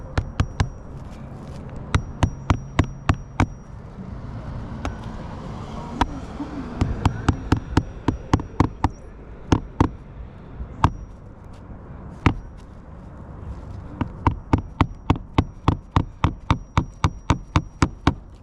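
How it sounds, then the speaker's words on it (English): A hammer drives nails into roof shingles on a roof with sharp repeated strikes in quick runs, pausing between nails, close and loud over faint outdoor background noise. "Do not want to strike the edge of the shingle as I'm swinging the hammer."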